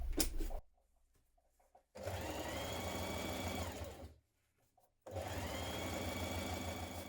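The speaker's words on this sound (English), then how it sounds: "Now pin the open side seam and stitch in place." A sewing machine stitches the side seam of a gymnastics leotard in two long, steady runs, with a quiet gap between them and a short burst at the start, close and clear.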